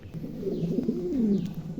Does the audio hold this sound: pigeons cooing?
yes